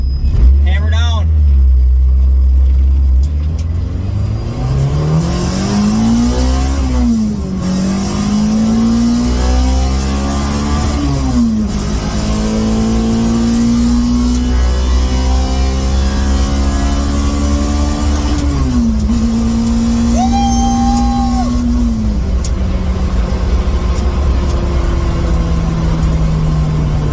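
A car with a newly installed Dragonfire distributor accelerates hard onto a highway, its engine rising through several gear pulls with shifts between them, loud and close from inside the cabin.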